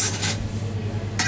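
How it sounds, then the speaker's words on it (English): Metal forks and cutlery picked up from a restaurant counter, with a short clatter and clink at the start and another near the end over steady room hum. "let's get our forks"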